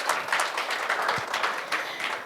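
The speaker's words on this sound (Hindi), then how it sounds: "एक बार जोरदार तालियां हो जाए इस बात पे।" Studio audience at a talk show giving a burst of applause, with scattered clapping and uneven bursts over about two seconds.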